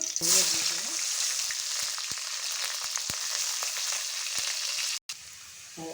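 Oil poured into a hot pan crackles and sizzles in a bright, even hiss with scattered pops, cutting out briefly near the end.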